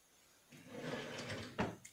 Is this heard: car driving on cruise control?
no